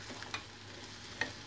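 A flour mixture stirred in a pan, a quiet steady sizzle with a couple of soft scrapes, no talking.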